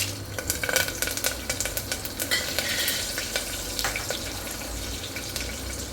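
Curry leaves, cloves and asafoetida crackling in hot oil for khichadi tempering, a dense steady sizzle with sharp spattering pops and occasional stirring scrapes, close and loud throughout.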